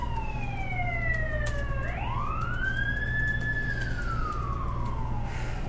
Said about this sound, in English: It's Siren Palooza today.